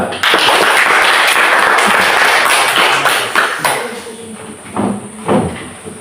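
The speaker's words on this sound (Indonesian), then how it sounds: "Tepuk tangan buat kelompok 2." A classroom group claps for a student team after its presentation. The dense clapping lasts about three seconds, then thins into a few scattered claps and thumps.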